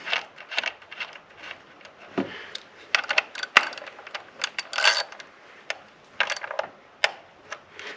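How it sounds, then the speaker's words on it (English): A ratchet tightens a bolt after a spark plug change on a Mitsubishi Outlander Sport, giving close, crisp clicking bursts in irregular runs with short pauses between strokes and no talk. "All we have to do is tighten this bolt up"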